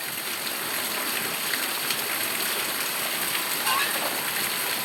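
Steady morning rain falls in a broad, constant hiss with faint patter and splashes, filling the whole stretch at moderate level with no clear breaks.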